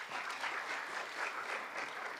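Applause at a youth parliament session, a crowd clapping densely and continuously with a slight swell and fade in intensity.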